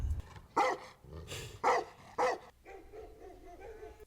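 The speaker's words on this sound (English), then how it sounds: "Oh, those barking dogs, yeah." Several dogs bark in a horror TV episode, four sharp, loud barks spaced about half a second apart, then a fainter whimpering or whining tail over low background noise.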